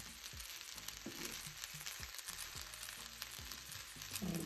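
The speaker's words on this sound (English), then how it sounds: "This is the fried jollof with shrimp." Ghanaian jollof rice with shrimp sizzles quietly in a pot, a soft continuous frying hiss with faint low clicks of stirring throughout, fairly distant and without speech.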